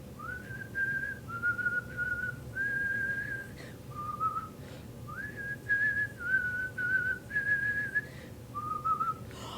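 A spooky, eerie tune whistled by a scarecrow character in a children's storytime, a series of clear sustained notes with gliding rises between them, close and alone over a low background hum.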